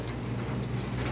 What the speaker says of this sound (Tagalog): Naulan na naman oh.